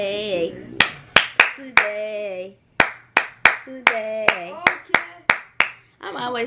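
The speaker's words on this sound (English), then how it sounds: "I'm always singing and clapping for her" Sharp, close hand claps ring out one at a time in an irregular rhythm, about a dozen in all, while a woman sings along between and over them.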